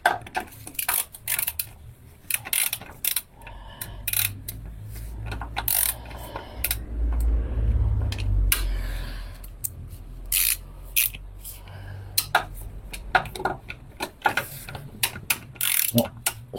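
A ratchet wrench clicks in quick bursts while bolts are removed to dismantle a line on a large repair job, close and sharp, with pauses and softer mechanical handling sounds between the runs.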